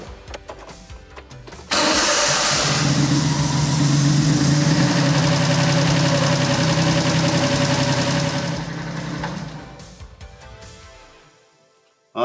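A Honda Beat with a freshly swapped motor cranks and fires, settling into a loud, steady, unhealthy-sounding idle that runs for several seconds, then cuts off and fades out.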